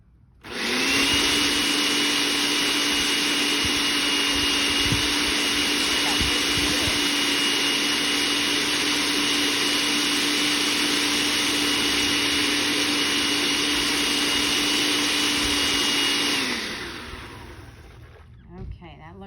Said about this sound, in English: And I'm going to turn on my blender.